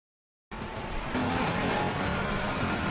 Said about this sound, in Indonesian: Ia lalu masuk ke dalam mobilnya, menyalakan mesin, dan menutup pintu.